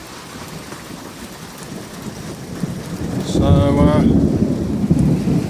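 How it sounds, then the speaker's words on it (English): A thunderstorm arrives with steady rain, then a loud rolling thunderclap that rumbles on for a couple of seconds over the downpour. A brief spoken word is heard at the start. "Looks like we could get a storm."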